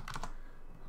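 A few quick computer keyboard keystrokes, likely a print screen command during an online class, tap close and clear at the start, then fade into quiet room tone.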